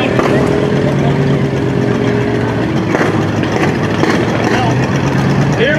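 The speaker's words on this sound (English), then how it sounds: "It's a 1938 F-20 with a flathead Ford V8." A 1938 F-20 tractor fitted with a flathead Ford V8 engine runs with a steady, loud rumbling drone at a street parade, with crowd noise and talk around it.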